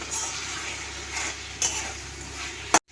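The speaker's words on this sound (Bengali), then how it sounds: "আরও একবার নাড়াচাড়া করে দিচ্ছি" Chicken filling being stirred in a pan on a gas stove, a soft continuous scraping and faint sizzle, with a brief clink of the lid near the end.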